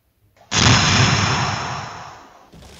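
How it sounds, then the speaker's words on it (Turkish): A volcano eruption explosion effect: one loud, roaring blast that bursts out suddenly and fades over about two seconds. "Volkan daha patladı."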